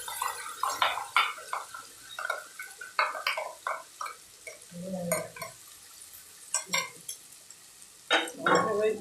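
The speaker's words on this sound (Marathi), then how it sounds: "चालू वांगे परतून घ्यायचे। उरलेला संपूर्ण फ्लॉवरतून घालायचं।" Brinjal and cauliflower sautéed in a pan, with intermittent spoon scrapes, knocks against metal and soft sizzling, close by, with short pauses between strokes.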